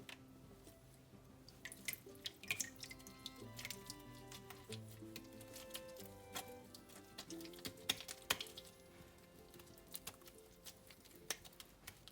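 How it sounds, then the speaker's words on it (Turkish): Homemade butter being washed under water, with soft drips and small splashes scattered through a steady low hum of running water at a kitchen sink. "Ta ki içerisinde şöyle yağlı süt renginde su çıkana kadar yağımızı yıkayacağız."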